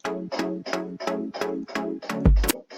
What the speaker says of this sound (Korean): 8번 같은 이런 건반 소리는요